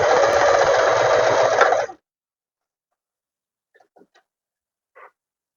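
Sewing machine stitching trouser fabric, a fast steady mechanical whir for about two seconds that stops abruptly, followed by quiet with a few faint clicks and taps.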